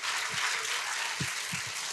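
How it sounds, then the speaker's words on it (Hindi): Audience applause for a guest at a Hyderabad talk session, a dense steady wash of clapping throughout with a few low thumps underneath. "एक जोरदार तालियां अतिका के लिए प्लीज"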